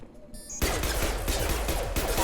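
Heavy pistol gunfire in the Mass Effect video game: after a quiet start, a rapid burst of repeated sharp shots follows, loud and close, with no speech over it.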